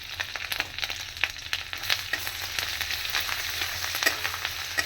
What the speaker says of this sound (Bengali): দেখুন আদাটা একটু ফ্রাই করে নিচ্ছি।